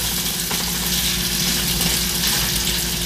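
Bacon fries in a pan on a stove with a continuous, steady hiss and crackle, close and fairly loud, holding an even level the whole time with no talking.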